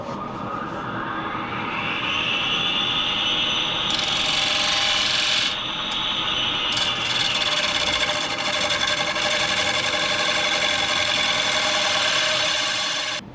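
A gouge cuts into a black walnut bowl spinning on a wood lathe, producing a steady, close scraping hiss with a constant whir throughout, briefly shifting in tone as the cut changes.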